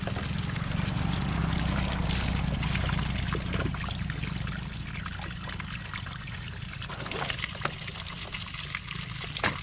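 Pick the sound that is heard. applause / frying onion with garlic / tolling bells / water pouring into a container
water pouring into a container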